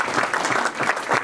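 Rotary club members applauding at a meeting, a short burst of many hands clapping together in a room.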